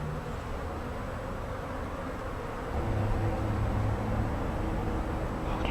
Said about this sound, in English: Look at all the worker bees there.